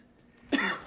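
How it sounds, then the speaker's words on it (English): A single sharp human cough bursts out after near silence, loud and close, with a short raspy tail and no talking around it. "Sorry, I'm coughing right now."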